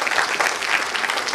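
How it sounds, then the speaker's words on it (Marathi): Audience at a literary award function applauding to welcome a guest of honour, a short, steady round of many hands clapping at moderate loudness with no talk over it. "ढोबळे साहेबांचं सगळ्यांनी टाळ्या वाजवून स्वागत केलं पाहिजे."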